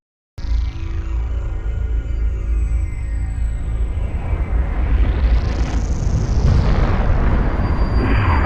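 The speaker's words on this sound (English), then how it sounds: "those stars go out with a huge, massive explosion called a supernova" A synthetic supernova explosion effect bursts in suddenly from silence as a loud, sustained rumbling roar with sweeping whooshing tones rising and falling over it, dense and continuous throughout with no voices.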